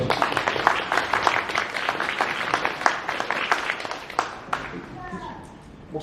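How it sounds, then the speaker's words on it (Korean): Warm applause from a church congregation welcoming a singer, dense clapping at full strength for several seconds before thinning out, with faint voices emerging near the end. "여러분 뜨거운 박수로 맞으시고"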